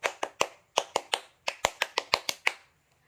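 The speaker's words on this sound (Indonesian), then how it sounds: "sekarang kita tepuk pramuka dulu ya. Tepuk pramuka." A scout group performs the Indonesian Pramuka rhythmic clap, a crisp, syncopated pattern of about fourteen sharp claps in quick bursts, with no talking.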